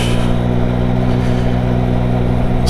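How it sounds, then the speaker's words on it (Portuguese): A 2023 Yamaha MT-09 motorcycle engine runs loud and close during a test ride, a steady harmonic rumble with a brief surge in the final moment, mixed with rushing wind. "só esta sonoridade deste motor"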